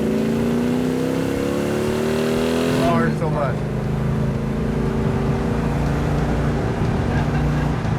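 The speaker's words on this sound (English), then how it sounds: "That is one snarler of an engine." A 1967 Hemi GTX convertible engine with dual quads revs loudly and close, its exhaust note rising, then dropping into a rough, rumbling idle, while people talk over it.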